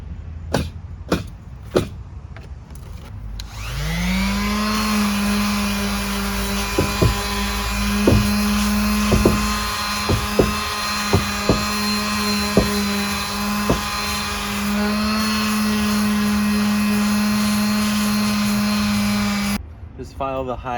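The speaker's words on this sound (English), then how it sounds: "Just file the high edges down." Hardened rock-hard wood repair filler on rotted wood is ground down at its high edges with a powered tool. It spins up after a few clicks, then whines steadily and loudly under intermittent taps before cutting off near the end.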